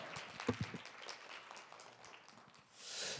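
Applause from a seated audience at a Korean university results-sharing conference after a chemical engineering student's presentation, a brief scattered patter of clapping that thins out, with a broader burst near the end.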